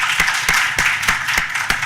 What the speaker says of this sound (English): Let's give a round.